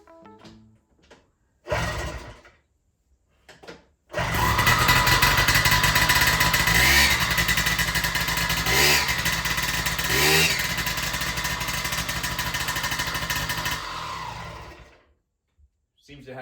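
A Yamaha PW50 dirt bike, fitted with a new crankshaft and started cold, fires up after a couple of short kicks, then runs loud and buzzy for about ten seconds with several sharp revs before dying away.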